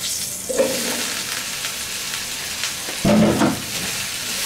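Cut okra (bhindi) sizzles and fries steadily in a hot pan, a continuous crackling hiss. Near the end comes a brief louder scrape as the pieces are stirred, and no one speaks over it.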